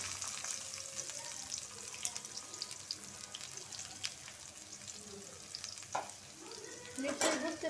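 Chopped garlic, green chilies and onion sizzle and fry steadily in a pan, with soft stirring scrapes and a brief splash of water near the end.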